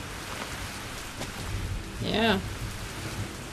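Steady rain of a thunderstorm in the Minecraft Betweenlands mod hisses throughout, with a voice briefly speaking over it.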